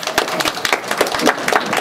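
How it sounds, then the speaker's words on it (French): Small audience at a talk applauding, with sparse, uneven individual claps at close range and no steady roar. "On peut l'applaudir."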